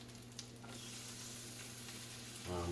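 Chorizo and black beans sizzle in a pan over medium-low heat, a steady close frying hiss that swells near the end.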